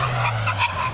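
A car brakes hard from 60 mph on a test track, its tires skidding in one loud, continuous screech over a steady low engine drone, held throughout with no talk.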